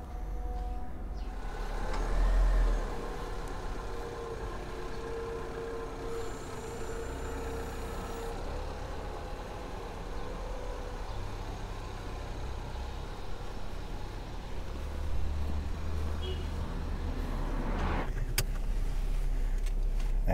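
A 2019 Fiat 500 cruises down a highway, giving a steady muffled engine drone and road rumble from inside the cabin, with a brief swell of noise near the end.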